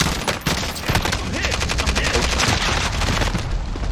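A CARV.2 burst rifle fires in Call of Duty: Warzone, loud, dense rapid-fire shots running nearly continuously for several seconds at close range, with no talking.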